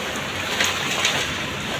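Heavy pre-monsoon rain pouring outside a house, blowing in through an opening, a dense steady hiss of falling water close by with a couple of slightly louder gusts, no talk.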